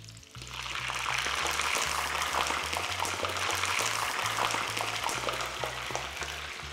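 Breaded duck croquettes fry in oil heated to 180 degrees, giving a loud, steady sizzle and crackle that lasts throughout, with a low rhythmic background underneath.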